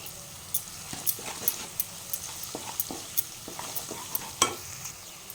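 Onions turned golden in a pan with turmeric added give a low, steady sizzle, broken by a run of sharp scraping and clinking stirring strokes spaced through the clip.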